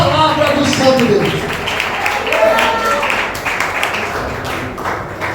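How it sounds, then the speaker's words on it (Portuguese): A church congregation claps and applauds together in a dense, continuous burst of hand claps that stays steady throughout, with crowd noise mixed in. "aplauda bem forte a palavra do Santo Deus"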